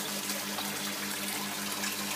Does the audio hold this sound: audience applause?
no